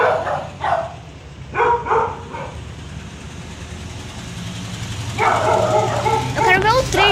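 A dog barks indoors in short, loud bursts near the start and around two seconds in, then gives a longer run of yelping barks toward the end, over steady background noise.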